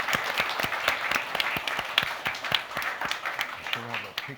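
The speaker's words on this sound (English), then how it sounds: "Let's give them a round of applause." An audience applauds at a club dinner event, a steady patter of many hands clapping at moderate distance, with a voice briefly heard near the end.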